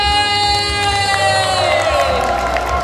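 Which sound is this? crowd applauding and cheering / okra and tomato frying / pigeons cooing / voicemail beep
crowd applauding and cheering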